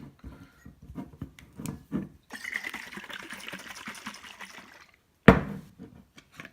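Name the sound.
home canned beef broth poured into a crock pot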